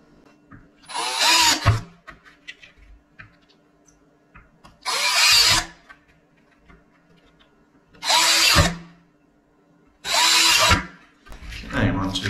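Four separate bursts of a power drill whirring, each lasting about a second, with quiet gaps between them and a fifth starting at the end.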